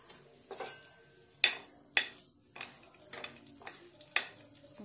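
A chutney tempering of chana dal, urad dal, cumin, mustard seeds and two dried red chillies frying in oil, a faint sizzle punctuated by sharp, irregular spoon scrapes and taps against the pan, no talking.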